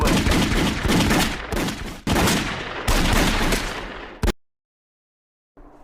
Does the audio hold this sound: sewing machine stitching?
no